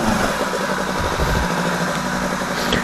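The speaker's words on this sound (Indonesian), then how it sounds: "Ayan mga ka-speed, ayan yung mga motor nila." Motorcycles of the Pampanga Goat Riders club sit idling nearby, a continuous buzzing engine drone with a fast, even pulse and no talk.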